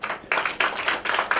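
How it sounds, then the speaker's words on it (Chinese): Audience members at a Mandarin-language education session clap to welcome a speaker, loud close handclaps arriving in a few rhythmic bursts over little more than a second. "现在我们把掌声欢迎广义"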